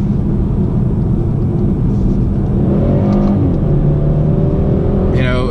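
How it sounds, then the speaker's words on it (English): A car engine revs hard and close, filling the space with a loud, continuous roar and rumble that holds steady and builds slightly in intensity. "this is just an engine making noise and making the car go quicker"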